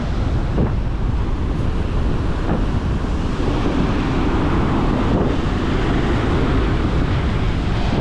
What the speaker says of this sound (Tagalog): pagka gantong malaking alon